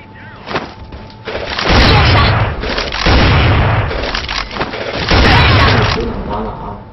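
Rapid bursts of gunfire from the mobile shooter We Shoot on iOS, played with a PP gun-shaped controller; loud, dense booming volleys come in three long stretches with short gaps between them.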